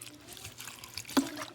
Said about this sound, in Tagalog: Naglagay tayo suka.